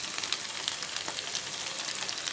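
Colocasia leaves crackle softly in hot oil tempering in a pan, a steady faint sizzle with small scattered pops, close and without voices.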